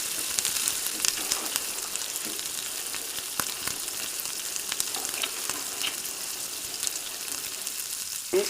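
Fish cooking in tamarind gravy gives off a steady, fairly quiet sizzling hiss throughout, with a few faint clicks and knocks from the pot and no voices.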